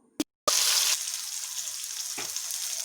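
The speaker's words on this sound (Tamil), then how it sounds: "இப்போ இந்த பக்கம் ஒரு 5 நிமிஷம் ஃப்ரை ஆகட்டும்" Masala-coated raw plantain slices fry in a pan. After a near-silent start and a couple of clicks, a loud sizzle bursts in, then settles into a steady, slightly softer crackle.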